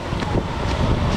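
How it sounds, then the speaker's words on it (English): Strong, cold wind blows outdoors and buffets the microphone in a brief, steady roaring rumble with no voices. "Super windy."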